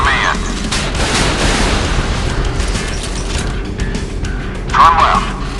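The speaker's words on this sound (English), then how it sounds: "Open missile silo hatches. Prepare for launch." A warship in the naval combat game Modern Warships fires missiles, with a loud sustained rumbling roar and a sharper burst near the end, while game voices call out commands.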